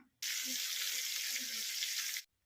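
Eggplant slices sizzle in hot oil, a loud, steady crackling hiss that starts abruptly and stops just as suddenly about two seconds later.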